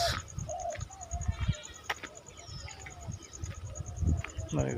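Birds call in short chirps and whistles around mango trees and karvanda thickets in rural Maharashtra on an afternoon, fairly faint over a steady outdoor hiss with a constant high insect-like tone.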